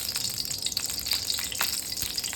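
Mustard seeds sizzle and crackle in hot sesame oil for a tempering for coriander chutney, a close, steady frying hiss with small popping bursts.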